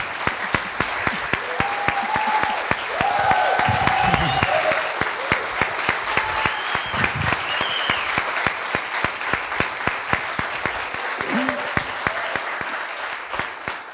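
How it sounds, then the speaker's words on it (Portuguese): Church congregation applauding steadily for the full stretch, a dense wash of hand claps from a sizable room, with brief sung or spoken voice fragments rising over it now and then. "Eu queria te convidar a aplaudir o Senhor mais uma vez por tudo que Ele tem feito."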